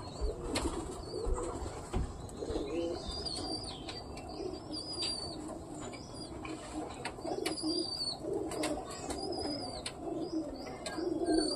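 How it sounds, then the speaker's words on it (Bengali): Pet pigeons coo softly near and far, with scattered chirps and occasional bursts of wing flapping over a low background murmur. "এখানে কিছু পায়রা আছে"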